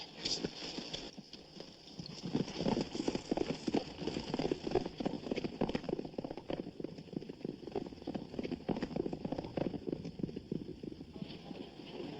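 Horse hooves clip-clop steadily on ground at a stable in a 1943 Western, a continuous even trotting rhythm at moderate distance, fairly quiet throughout.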